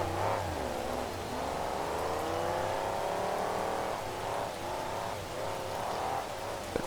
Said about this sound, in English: Sounds like it might be misfiring a little bit. Something might be wrong with the engine